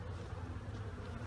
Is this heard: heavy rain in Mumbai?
no